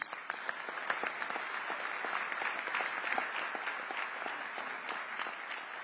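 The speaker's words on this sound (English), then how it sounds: "Can we give them a round of applause, please?" Applause for members of the Pennsylvania State Senate at a ceremonial celebration, a steady wash of many hands clapping, moderately distant and even throughout, with no talk over it.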